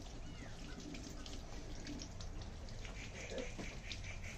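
Running water pours steadily as curry leaves and neem leaves are rinsed under a tap, a faint, continuous splashing hiss with no talk.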